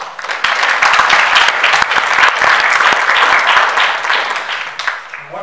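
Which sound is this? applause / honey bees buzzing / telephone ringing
applause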